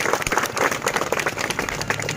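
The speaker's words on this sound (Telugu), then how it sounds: "గట్టిగా చప్పట్లు కొడతలే మీరు." An audience at a saints' introduction during the Kondagattu Giri Pradakshina gathering claps in a dense, steady burst of applause, with a faint voice and a low sustained tone underneath.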